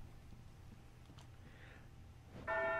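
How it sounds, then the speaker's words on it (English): A bell rings in the video game Silent Hill: Downpour, a single bright strike arriving near the end after quiet, faint game ambience, clear and fairly loud against the hush. "let's ring this bell"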